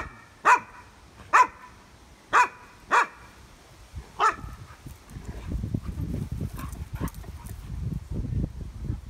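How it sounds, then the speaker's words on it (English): A dog indoors barks five times in a spaced series, loud and close, then a softer muffled rumble of movement and faint barks follows. "that dog always barks. It's in the house and it's barking at us."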